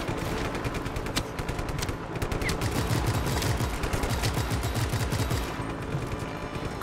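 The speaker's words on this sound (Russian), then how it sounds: "Кто еще стреляет? Где они стреляют?" Rapid automatic gunfire in the video game Just Cause 3, a steady stream of fast shots rattling on for several seconds at moderate volume.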